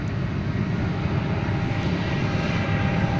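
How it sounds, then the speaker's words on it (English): An American Airlines jet takes off at DFW Airport, its engines a loud, continuous broadband roar close by, with no talk over it. "This is an American flight to Minneapolis, St. Paul."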